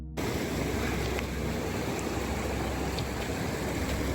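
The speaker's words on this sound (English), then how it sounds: "The sound of the vast river flowing below." A constant, dense rush of flowing water, steady and unbroken, like a large river heard from close by below a mountain trek near Dharamshala, with no voices.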